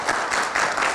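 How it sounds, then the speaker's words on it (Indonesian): A studio audience at a television talk show on a court verdict gives a short burst of applause, brief dense clapping lasting under a second. "oke kita berikan tepuk tangan"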